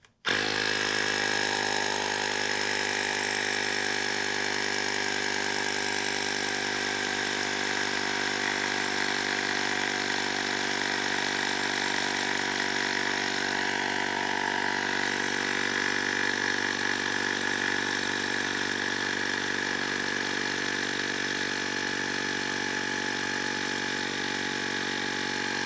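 A Ryobi digital air inflator runs continuously while pumping up to 120 psi, giving a loud, steady motor drone with a constant buzzing tone and no pauses throughout.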